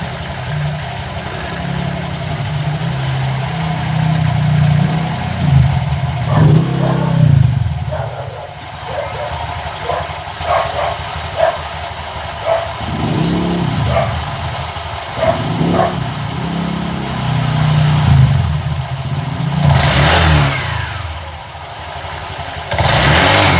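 A Honda Click 125 scooter fitted with an upgraded racing pulley revs and accelerates nearby, its engine rising and falling in several loud surges over a steady idle.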